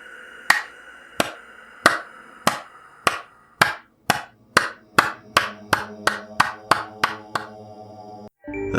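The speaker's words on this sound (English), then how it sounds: "Clap once for each person." Sharp claps in a scary story, a series of about fifteen crisp, close strikes that start slowly and speed up into a quicker run before stopping, each with a short ringing tail.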